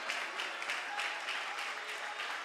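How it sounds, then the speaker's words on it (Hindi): A church congregation at a Hindi convention clapping together, a dense, fairly quiet wash of many hands with a loose pulsing rhythm throughout. "तालियां बजाकर थोड़े प्रभु का धन्यवाद करें"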